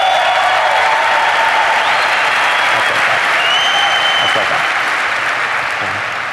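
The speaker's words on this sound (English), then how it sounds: "can you clap for me?" Loud, dense audience applause filling a large conference hall during a keynote presentation at a business event, sustained and steady before easing slightly at the end.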